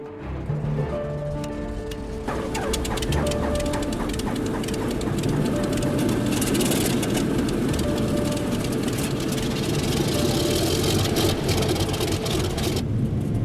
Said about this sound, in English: The crew hurries to get the C-46 ready for startup, hoping that the engines haven't been exposed to the brutal cold for too long.